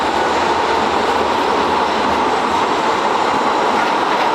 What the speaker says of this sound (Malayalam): ഈ വരുന്നത് ഇവിടെ ബെൽഗ്രേഡിലെ ട്രാം ആട്ടോ, റോഡിലേക്കൂടെ പോകുന്നത്.